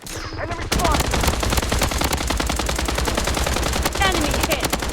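Rapid automatic gunfire from the Blood Strike shooter game, a dense, loud, continuous stream of shots after a brief quieter lead-in, with a few sharper bursts layered on top and no pauses.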